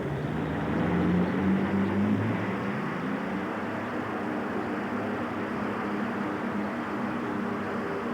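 Allison aircraft engine powering a pulling tractor at a tractor pull event, a loud steady roar with a brief rising tone early on, heard from a distance across the grounds without speech.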